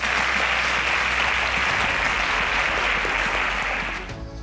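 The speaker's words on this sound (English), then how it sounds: "Round of applause for them." Dense, steady applause from a studio audience at a televised school quiz competition, loud and continuous before tapering off at the end.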